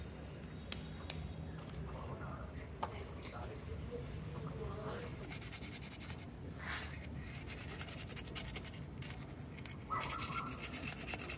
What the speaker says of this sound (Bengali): তো ব্রাশ দিয়ে ঘষে এই সামনের যে ময়লাগুলো ছিল সেগুলোকে পুরোপুরি পরিষ্কার করা হয়ে গেছে